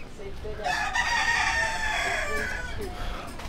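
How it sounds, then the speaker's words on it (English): A rooster crows once, loud and drawn out, over a low background rumble in a slum in Tondo, Manila, Philippines. "You could hear the roosters in the background blaring."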